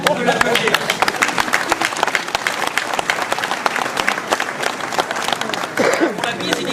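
A crowd at the Ouistreham mayor's New Year ceremony gives a medal recipient lively, continuous applause, with dense rapid claps and murmuring voices mixed in throughout.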